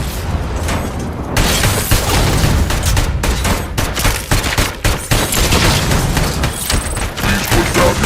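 An ED-209 robot firing its guns in RoboCop: Rogue City, a loud, dense fusillade of rapid gunfire bursts and booms that runs almost without pause after a brief quieter opening.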